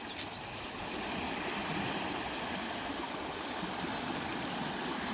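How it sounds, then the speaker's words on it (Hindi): Ganges floodwater flowing past a flooded village in Bihar, a steady broadband rush of moving water that stays loud and constant throughout, with no voices. "पानी देखिए दोस्तों,"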